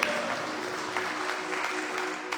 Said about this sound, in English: Give yourselves a lovely round of applause.